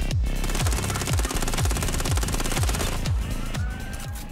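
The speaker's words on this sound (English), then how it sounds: "shooting while driving" Gunfire while driving in Watch Dogs: Legion, loud steady rhythmic shots over a constant vehicle engine roar, punctuated by regular low thumps.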